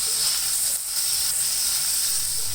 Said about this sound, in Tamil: இன்னொரு கடாயில் 2 டேபிள் ஸ்பூன் தேங்காய் எண்ணெய், 1 டீஸ்பூன் ஜீரகம், கருவேப்பிலை, அப்புறம் ஸ்லைஸ் பண்ண ஆனியன் போட்டு கோல்டன் ப்ரௌன் கலர் ஆகிற வரைக்கும் குக் பண்ணணும்